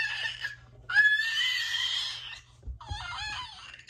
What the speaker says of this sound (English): I have a kid right here screaming, and I'm still making a video.